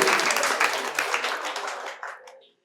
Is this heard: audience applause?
yes